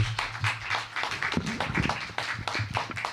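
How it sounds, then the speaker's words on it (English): Audience applause and clapping at a Sunday church celebration as a guest singer walks to the stage; steady, dense hand claps fill the room for a few seconds, moderately loud. "Give her a round of applause as she comes to the stage."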